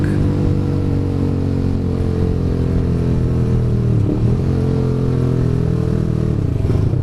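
TVS Apache RR 310 motorcycle fitted with a full Akrapovic exhaust system, its engine droning loud and close with a steady, deep rumble and slight revving throughout.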